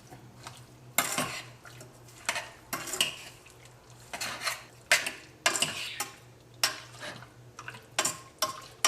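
A metal spoon stirs chili powder into chicken in a pan on a Kerala chicken varattiyathu recipe, giving repeated scraping clinks against the pan in an uneven rhythm, close and clear with no talking.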